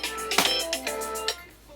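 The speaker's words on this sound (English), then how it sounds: "Uh-oh, my phone's ringing." A telephone rings with a bright electronic ringtone, several repeating tonal bursts that are loud and close, with no talking.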